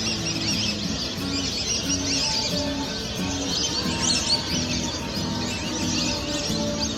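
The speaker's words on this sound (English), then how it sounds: "This is a gadwal." Gadwall duck calling among other waterbirds at a lake in India in winter, a steady mix of chirps and quacking calls under constant bird chorus and background hum.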